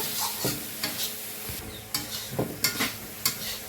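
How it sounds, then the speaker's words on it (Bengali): A spice mix with coriander and black pepper powder fries in a pan while a spoon stirs it. Irregular scraping strokes come in quick bursts over a soft, low sizzle, close and fairly quiet. "একটু গোলমরিচের গুঁড়ো মশলাটাকে ভালো করে কষিয়ে নেব"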